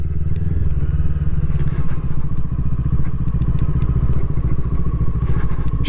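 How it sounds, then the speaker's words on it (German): A Brixton Crossfire 500 X motorcycle engine idles steadily nearby, a smooth low throbbing rumble that holds a constant pace with light mechanical clatter on top. "Motorlauf ist sehr gut. Angenehm, keine Vibrationen jetzt zu spüren im Bike."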